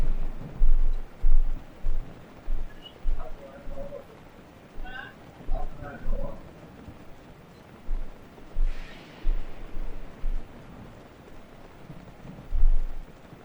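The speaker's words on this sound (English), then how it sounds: "Thunderstorming." A thunderstorm in Zelda Breath of the Wild brings rain hissing steadily and low thunder rumbling in repeated swells, with faint bird chirps around the middle.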